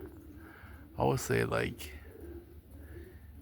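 Young roller pigeons cooing close by, a few soft throaty coos rising and falling in the middle of the clip, with someone speaking briefly over them.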